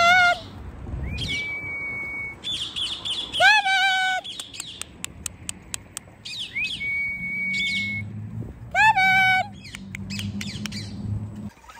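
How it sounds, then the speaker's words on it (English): Loud squawks and sharp whistles from a parrot, likely an African grey, ring out from a nearby house in repeated bursts with clicking calls in between, over faint outdoor background. "I just hear some bird noises coming over there from that house."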